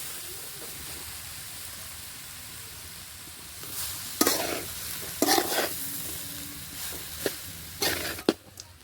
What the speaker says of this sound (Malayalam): ചോറ് ചേർത്ത് നന്നായി ഒന്ന് മിക്സ് ചെയ്തെടുക്കാം